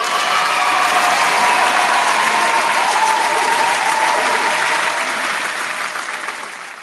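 A burst of clapping from a group fills the space with dense, steady applause that gradually tapers off toward the end.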